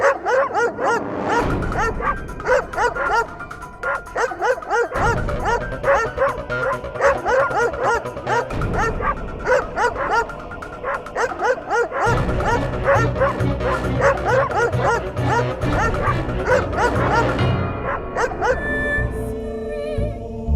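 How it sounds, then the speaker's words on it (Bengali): Several dogs bark, yip and whine continuously, loud and close, overlapping in a chaotic chorus. "কুকুরগুলো চিৎকার করা বন্ধ"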